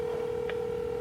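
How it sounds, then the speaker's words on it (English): Phone call dialing through an Apple Watch Series 3 speaker, a steady electronic tone with one short higher beep partway through, close and clear. "It's calling the house."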